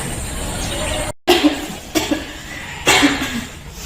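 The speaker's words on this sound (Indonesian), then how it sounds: "Iya nih, lagi batuk." A student coughs a few times in short bursts, close and fairly soft, with brief breathy pauses between the coughs.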